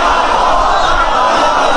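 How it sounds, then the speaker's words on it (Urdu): Dense crowd voices chanting Ya Ali slogans at a religious gathering during a Jashan-e-Shaban celebration at an imambargah, a loud, continuous roar of many voices filling the whole stretch. "یہ یا علی کی صدائیں تسبیح خدا ہے"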